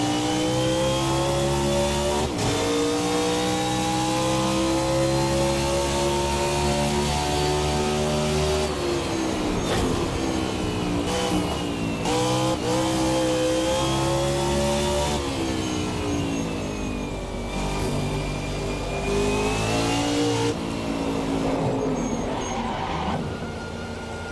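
A race car engine in the Race Sim Studio Hyperion 2020 racing sim drones loudly and steadily, rising and falling in pitch through gear shifts as it heads into the pits, with no voices.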